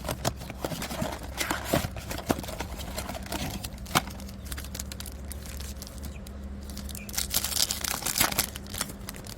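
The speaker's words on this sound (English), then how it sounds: "Let's crack open some more baseball cards." A 2023 Panini Prizm baseball card blaster box being opened up close, with crinkling and tearing wrapper, sharp clicks and taps, and a rustling flurry of plastic toward the end.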